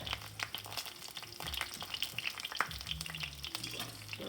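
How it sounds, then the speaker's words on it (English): Battered cauliflower wings fry in a skillet, crackling and popping in hot oil with bursts of sharp sizzle and occasional utensil stirring noises, close and fairly loud. "while those are frying, just drop the rest of these in my batter"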